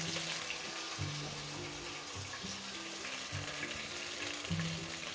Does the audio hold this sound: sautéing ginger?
yes